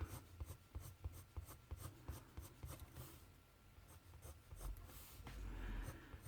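A Faber-Castell white pencil scratches over paper with quick, rhythmic strokes, close and quiet, then shifts into a steadier rubbing toward the end.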